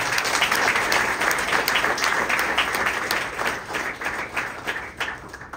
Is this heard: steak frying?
no